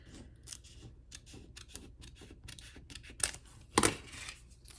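Scissors snip through sticky material while the outer edges of a shadow box house are trimmed, a run of close, crisp cuts building to two louder snips near the end.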